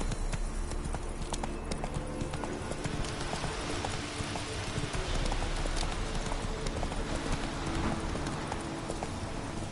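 Roach the horse in The Witcher 3 trotting, hooves clip-clopping in a steady, even rhythm close by, continuous under soft ambient game sound with no speech.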